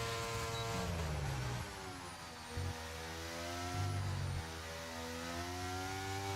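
A race car in a racing video game on the Spa circuit in Belgium, at the end of the Kemmel Straight, whines at high revs, then drops sharply through the gears under braking with a few heavy downshift blips.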